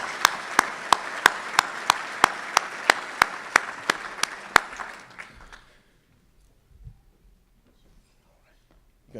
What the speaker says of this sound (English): let's give our mayor a huge round of applause as well